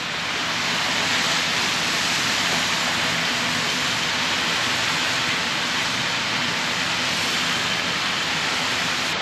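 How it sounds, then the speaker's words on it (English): A hose waters plants in a greenhouse, giving a steady, even hiss of spraying water that runs unbroken and fairly loud throughout. "Then I'll water it."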